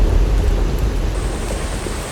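Heavy rain falls in a steady, dense roar of broadband noise at close range, loud and unbroken from start to finish.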